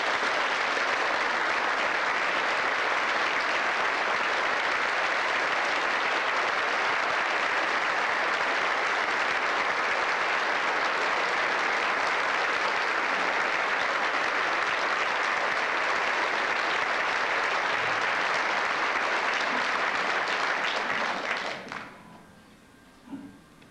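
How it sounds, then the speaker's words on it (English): Sustained audience applause at a university concert of Roma gypsy music, a dense steady wash of many hands clapping throughout before fading out near the end. "Let's have a nice round of applause for the Roma."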